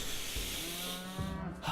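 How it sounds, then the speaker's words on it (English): A muffalo in the video game RimWorld gives a long, low, drawn-out moo, clear and prominent over a steady background hiss. "I hear the mooing of the muffalo."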